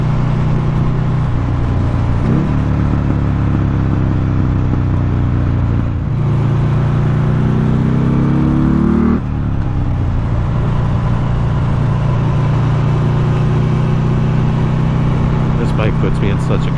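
Buell motorcycle engine droning steadily while riding, a loud continuous low hum with a few brief shifts in pitch as the revs change, wind noise underneath.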